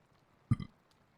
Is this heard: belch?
yes